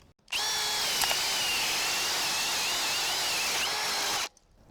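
An Irwin Speedbor paddle bit drills into wood with a loud, steady, high-pitched power-drill whine that runs for about four seconds, then stops abruptly.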